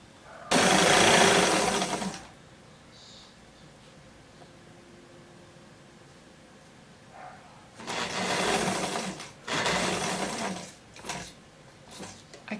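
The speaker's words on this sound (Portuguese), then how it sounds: "Então, agora é só costurar." Sewing machine stitching a sunflower-sleeve dress in two loud bursts, one near the start and two more toward the end, separated by quiet handling pauses.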